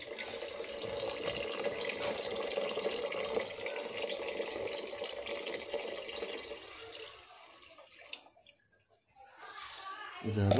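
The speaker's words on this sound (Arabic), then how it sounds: "صافي غنكبو عليه شويه الماء بين ما نخلطو هاد المطيشه والبصله" A little water poured into a tomato and onion mixture in a kitchen runs as a steady trickle and splash, then stops, with faint talk around it.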